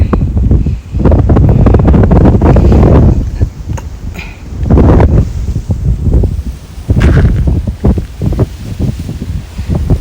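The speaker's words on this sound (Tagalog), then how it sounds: "Lakas ng hangin, grabe." Strong gusts of wind buffet the microphone on the Lion Rock hiking trail in Hong Kong, surging in loud, roaring bursts that ease briefly between blasts.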